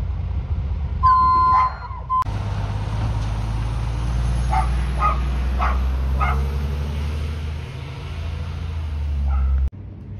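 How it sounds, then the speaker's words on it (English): A dog barks several times in a quick cluster, moderately distant, over the heavy rumbling engine of a Republic Services garbage truck with occasional beeps. "Ruining everybody's Saturdays is my beautiful dog, Macy."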